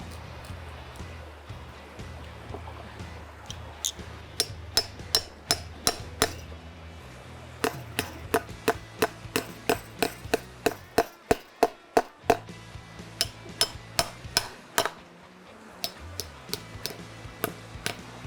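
A hammer drives staples into wire fencing at a high-traffic area, sharp metallic strikes coming in quick repeated bursts up close, with short pauses between runs over a low background hum.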